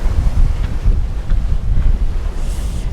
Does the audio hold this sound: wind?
yes